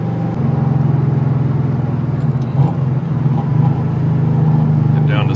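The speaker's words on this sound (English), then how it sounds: "Get down to second. I'll just punch it right here." A Subaru Impreza wagon engine drones loud and close as it is pushed hard, a sustained rough hum with slight swells, while someone talks over it.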